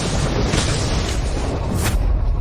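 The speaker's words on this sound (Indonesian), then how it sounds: "Ledakan diri puncak Mahayana." A massive explosion from a cultivator's self-detonation roars as a sustained, heavy, rumbling blast, dense and loud with no pauses, like a continuous fiery eruption.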